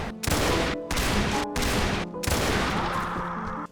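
Rapid bursts of gunfire from a video game battle against a heavily armoured Tower Keeper's party, loud and close, fired in several sustained volleys separated by short silent gaps.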